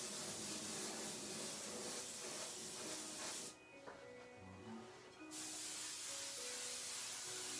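Aerosol spray paint hissing in a long continuous burst onto a panda bear artwork, close and steady, with a short break of quiet before the spraying resumes.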